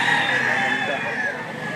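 A gamecock rooster crows at a fighting-cock sale in Lipa, Batangas, giving one loud, close, drawn-out call that fades near the end against background noise.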